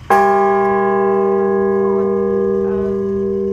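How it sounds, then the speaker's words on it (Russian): A single loud strike on a 750 kg bronze bell in Buryatia rings out with a sharp attack, then a long, steady, sustained hum that barely fades over several seconds. "вот люди бьют в колокол"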